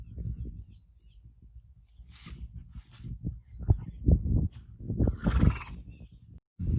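Young colts and school horses neigh and whinny in a summer paddock at an equine center, several rising calls overlapping at moderate distance, with rustling and faint hoof sounds around them.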